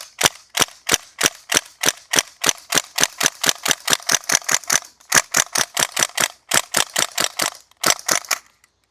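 A gas-powered North East STEN airsoft gun firing BBs outdoors in spring: rapid, sharp, close cracks in quick strings, some forty shots with brief pauses between bursts.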